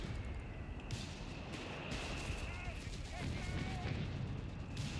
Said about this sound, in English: it looks like we have artillery hitting this position